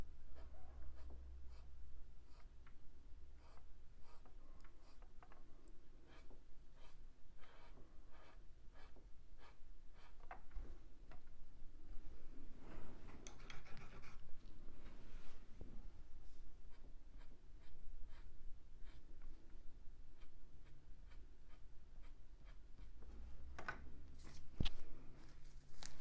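Pencil strokes scratch across drafting film while a fox is drawn, a run of quick, close, quiet flicks and short scrapes, with a few softer shuffling pauses between bursts.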